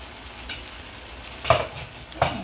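Potatoes and spices sizzle steadily in a pan, with two distinct scraping stirs cutting through the constant frying hiss.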